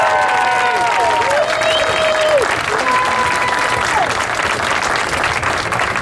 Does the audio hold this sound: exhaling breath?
no